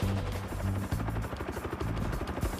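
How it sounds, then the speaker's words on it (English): A Bell UH-1 Huey helicopter drones loudly and steadily for a few seconds, its rotor thumping in a low, rhythmic beat under a dense engine whine, with no voices. "The Huey is, of all these helicopters, the greatest of all time."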